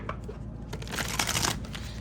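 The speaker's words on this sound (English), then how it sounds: "Let's shuffle." A deck of cards is shuffled during a tarot reading, a quick papery riffle building to a louder flurry of snaps before settling, heard alone.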